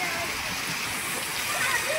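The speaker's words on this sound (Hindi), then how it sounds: "आज हमारे तरफ बहुत ज़ोर से बारिश हो रही है।" Heavy rain pours down with strong wind, a dense steady hiss and splatter holding at a constant loud level from start to finish.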